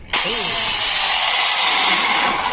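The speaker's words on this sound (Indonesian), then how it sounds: "kita bor" A power drill whirs up to speed and runs steadily at close range while drilling an oil drain bolt, a continuous high-pitched buzz without pause.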